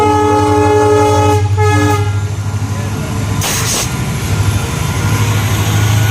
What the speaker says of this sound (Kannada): ಟ್ರೈನ್ ಬಂದಾಗ್ಯದ